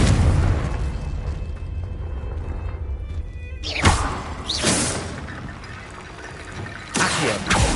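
A Confringo blasting curse in a Harry Potter video game goes off with a whooshing burst, followed by further bursts after quieter gaps, over a steady low background rumble.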